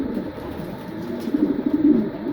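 Racing pigeons coo in a loft, low soft throaty calls that grow louder and rise toward the end, close by with no speech.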